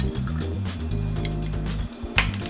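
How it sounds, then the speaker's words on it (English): Maple syrup, one cup, poured into a medium mixing bowl for homemade barbecue sauce: a thick, gloopy close-up pouring sound with soft squishy drips and a faint clink at the end. "We're gonna add 1 cup of maple syrup to a medium-sized bowl"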